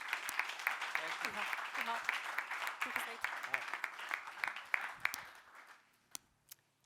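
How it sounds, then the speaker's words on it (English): An audience at a Schaffhausen jazz talks event claps in a dense, lively round of applause that holds steady, then thins to a few scattered claps and fades out near the end. "So a big applause for Anicia Kohler"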